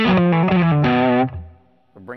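Distorted electric guitar through a PRS J-MOD 100 amp with the mids cranked, a short run of loud chugging chords and single notes that ring out and fade, followed by a brief picked note.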